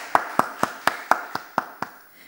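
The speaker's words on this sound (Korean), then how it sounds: "박수 한번" A church congregation claps together in a quick, steady run of about eight sharp, even claps that fade out at the end, with no talking over them.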